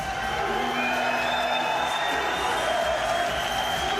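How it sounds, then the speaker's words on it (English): An arena crowd at a UFC fight in Dublin keeps up a continuous roar of chanting and cheering, a thick, steady wash of many voices with no single call standing out. "Still the crowd are chanting and cheering."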